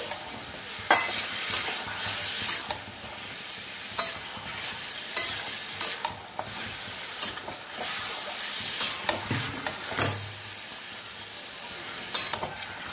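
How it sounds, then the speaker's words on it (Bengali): Chicken for a dhaba style curry sizzles in a pan under steady stirring, with repeated scraping strokes and clinks of the spoon against the pan recurring every second or so over a constant frying hiss. "মিনিট 3 নাড়বো এরকম করে"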